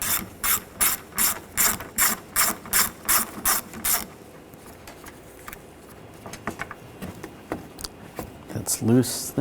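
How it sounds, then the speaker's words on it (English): A ratchet with an 8mm socket backs out valve cover screws on a 2013-2019 Ford Escape 2.0L four-cylinder, giving a run of about ten fast, loud, evenly spaced clicking bursts, then quieter scattered clicks and handling noise. "Using a 8mm socket, take these screws out."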